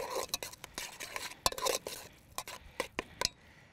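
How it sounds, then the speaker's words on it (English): Giant couscous dressed with olive oil and lemon juice is stirred in a bowl, giving soft clicks and scrapes of a utensil in short, irregular bursts, fairly close and quiet, with no voices. "Give this a little stir"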